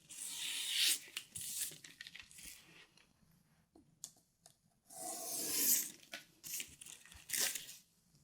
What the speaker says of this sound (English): I trim off the first side, just using the board as my straight edge